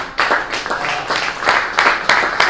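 An audience at a live stage act breaks into steady applause, dense clapping with rhythmic surges, fairly loud and close, with no talk over it.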